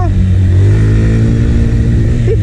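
A delivery rider's motorcycle engine revs steadily on the throttle, loud and close, holding a continuous droning note for the whole stretch.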